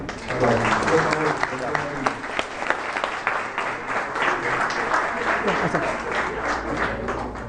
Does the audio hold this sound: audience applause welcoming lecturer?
yes